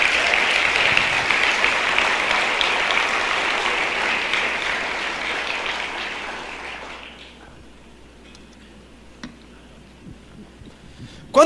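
A church congregation applauds the Lord Jesus with dense, loud clapping that fades out over several seconds, leaving a quiet room with a few scattered sounds.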